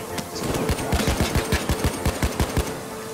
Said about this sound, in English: Yeah, sentry gun.